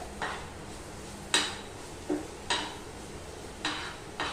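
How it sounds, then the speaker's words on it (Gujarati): Spoon scraping and clanking against a pan as masala pav sauce is mixed, several sharp strokes spaced about a second apart over a quiet background. "બરાબર એકવાર મિક્સ કરી દઈએ આપણે એને."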